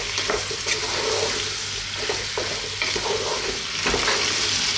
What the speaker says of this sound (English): Let's just throw this around in the pan for like 4 or 5 minutes just to get it started